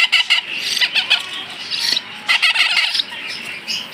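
Hill myna chicks squawk loudly and close by in repeated harsh, raspy bursts, several overlapping calls coming in uneven clusters with short gaps between them.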